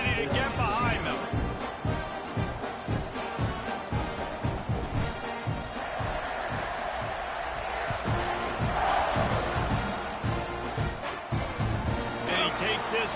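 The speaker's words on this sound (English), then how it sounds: "this crowd now ready to get behind them" A stadium crowd in the College Football 26 video game roars steadily during a kickoff, a loud, continuous wash of cheering under a commentator's play-by-play.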